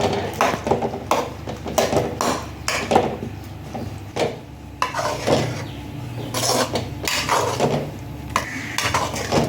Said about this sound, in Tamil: முருங்கைக்காயும் போட்டு நல்லா கிண்டி விட்டுக்கலாம்.